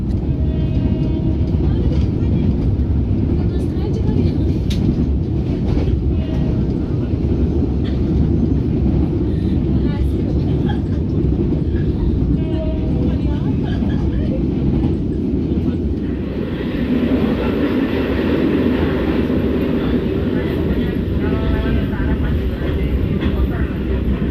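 The Probowangi passenger train rumbles along steadily through Banyuwangi Regency, East Java, with continuous wheel and carriage noise, and a voice talks over it.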